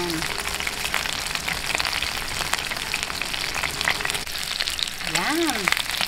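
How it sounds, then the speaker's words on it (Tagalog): A whole chicken fries in hot oil, browning for hamonado, with a dense, continuous spitting sizzle that stays loud and close the whole time, and a brief voice-like rising tone near the end. "Kabilang side naman po ang ating ipiprito ng bahagya."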